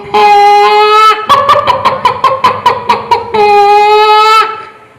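A performer's voice mimics a hen that is not laying, at a state school arts festival mimicry event: sustained clucking tones open and close, framing a central stretch of rapid, evenly spaced staccato clucks, loud and close with no other talk.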